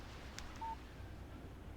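A short single electronic beep, a phone text message alert in the Alan Wake video game, sounds faintly and briefly over a low ambient background.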